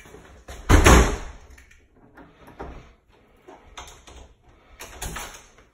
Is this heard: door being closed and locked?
yes